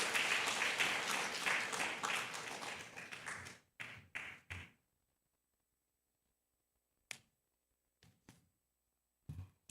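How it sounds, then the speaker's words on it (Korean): A congregation at a Korean church Sunday worship service claps loudly and steadily, then the applause fades out, leaving a few scattered claps and taps in near silence. "저희 모두 큰 박수로 찬양하도록 하겠습니다"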